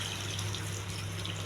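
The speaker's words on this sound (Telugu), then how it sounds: "కొంచెం వాటర్ వేయాలి," Water pours steadily into a pot of simmering chicken curry, a continuous close splashing and trickling over a low, constant hum.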